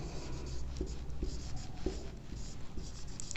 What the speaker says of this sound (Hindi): इनका परिभाषा अब हम लोग लिख लेते हैं